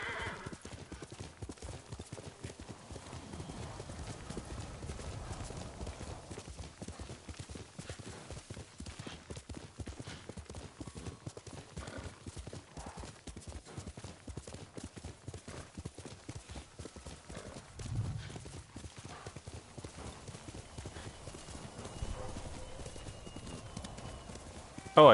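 Rapid galloping horse hooves clatter nonstop in a video game, likely Ghost of Tsushima, with a horse whinnying now and then, fairly loud and close.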